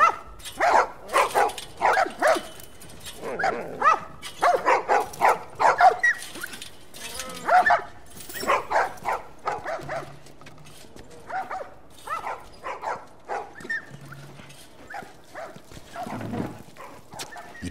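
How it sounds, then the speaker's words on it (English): Dogs in the video game The Last of Us bark repeatedly in quick, close bursts, with yips and some whimpering, then quieter intermittent barks later on. "These dogs are all accounted for."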